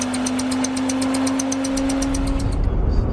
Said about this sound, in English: It's definitely misfiring, and I'm sure at least one cylinder doesn't have full compression.